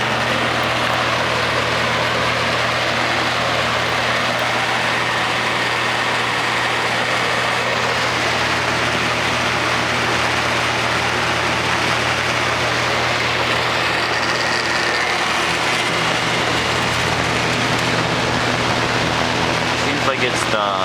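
An Edison Thin & Light box fan runs on its high setting, a steady close broadband rush of moving air over a low hum that holds evenly throughout.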